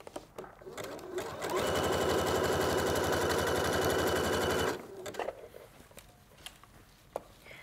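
A sewing machine runs a steady, loud, close burst of fast stitching for about three seconds while elastic is sewn onto leggings, with quieter handling noises before and after.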